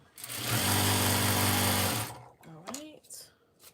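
A home sewing machine runs steadily for about two seconds in a small craft space, a loud even whir with a strong hum. It then stops and someone speaks.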